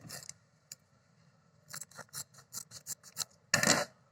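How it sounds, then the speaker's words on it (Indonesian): A paper packet of strawberry and mint seeds is torn open by hand, giving a few sharp crinkling rips and rustles in quick bursts, with one louder tear at the end, close and alone. "kita akan langsung menabur benih dengan cara membuka kemasan terlebih dahulu"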